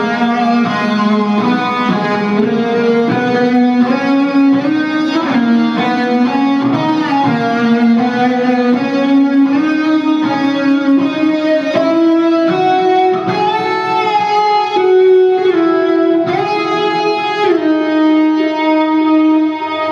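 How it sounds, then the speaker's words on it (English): A distorted electric guitar plays a smooth, sustained lead melody with echoing delay trailing each note, loud and up front. "basic lead sound, which is a lot of gain,"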